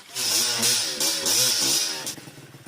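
A motorcycle stuck in mud on a mountain loop trail revs hard in repeated surges, its engine whining up and down loudly and close, then easing off toward the end.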